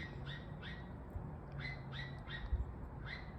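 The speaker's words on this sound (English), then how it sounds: "They're cute little birds." Small gray birds with a red face patch chirp in faint, repeated short notes, about seven evenly spaced high tweets over soft background noise, with no talking.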